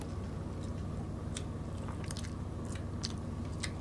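Close, quiet bites and chews of fatty milkfish belly in a Filipino mukbang, a few soft crunchy, wet clicks scattered over a low steady background hum.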